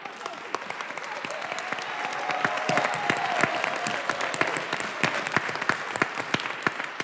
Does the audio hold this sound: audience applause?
yes